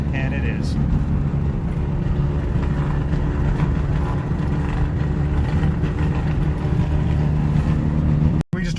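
A car engine idles steadily with a deep, continuous low rumble, loud and close, holding an even rhythm throughout after the smoke settles on arrival at a park.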